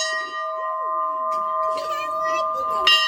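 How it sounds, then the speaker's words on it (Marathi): A brass bell at a Shiva temple rings with a long sustained metallic tone that keeps humming, then gets struck again near the end, with brief voices in the background. "आणि घंटी आता हे वाजत आहे."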